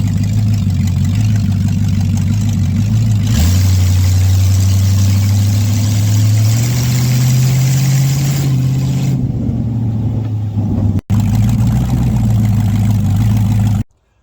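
A 1931 Ford roadster engine runs during a short neighborhood test drive, a loud, steady low drone that rises in pitch midway as it revs, briefly cuts out near the end, then returns before stopping.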